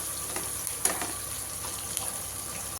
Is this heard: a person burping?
no